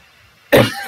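A single sharp cough bursts out after a quiet moment, close and loud, then trails off into a breathy tail.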